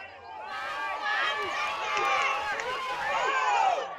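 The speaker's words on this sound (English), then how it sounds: "The crowd calling for some action" Basketball crowd at a game, many voices shouting and calling out together in a loud, sustained swell that rises and falls, with a commentator talking over it.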